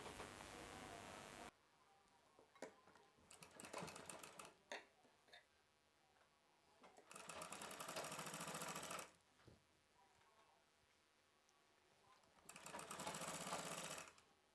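A sewing machine stitches a baby frock in three loud bursts of steady whirring, with quiet pauses and a few soft clicks and handling noises between runs.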